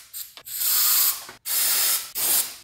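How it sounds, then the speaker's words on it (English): Brake cleaner sprays from an aerosol can onto a Mazda Miata front brake caliper in three loud, close hissing bursts separated by brief pauses. "I'm going to spray that off with some brake clean"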